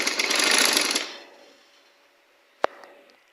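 Sewing machine stitching a kurti neck runs in a short loud whirring burst of about a second, then stops and falls quiet apart from a single sharp click.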